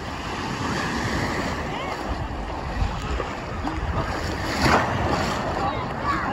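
Surf washing in at Playa de Muro beach on a summer day, a steady broad roar of waves and water with wind buffeting the microphone throughout.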